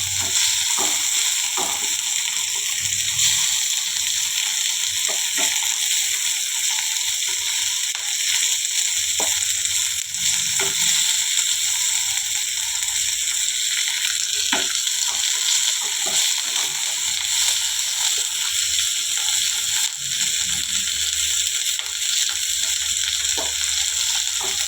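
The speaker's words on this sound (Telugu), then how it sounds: "ఇట్లా పచ్చిమిర్చి మీద తెల్ల పొరలాగా రావాలి, నూనె లేగి అప్పటిదాకా వేయించుకోవాలి" Green chillies fry in hot oil for a Telugu gongura pickle, giving a steady, dense sizzle that crackles close by without a break and carries no talk.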